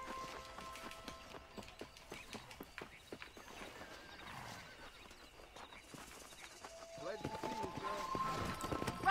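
Horse hooves clip-clopping in the video game Red Dead Redemption, a steady trot under faint game ambience, with a voice talking over it.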